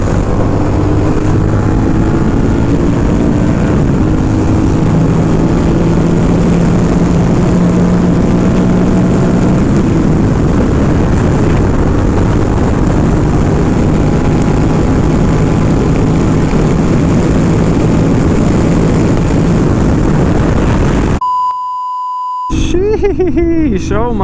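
A Honda Rebel 1100 motorcycle on a high-speed run makes a loud, continuous engine and wind roar that holds steady for about twenty seconds, then cuts off abruptly near the end with a few brief sounds.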